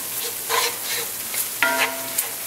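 Flour being stirred into pork chop drippings in a crockpot, a soft scraping and faint sizzle in short uneven strokes, close and fairly quiet.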